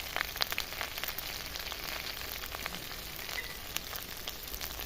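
A spice paste of ground garlic and green chilli with salt, turmeric and chilli powder fries for a katla fish head muri ghonto, giving a steady close crackling sizzle with scattered pops and no voices.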